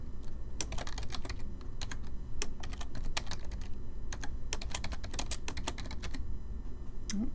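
Steady, rapid typing on a computer keyboard while records are entered into an Excel spreadsheet, with quick clusters of key clicks, occasional louder keystrokes and short pauses over a constant low background hum.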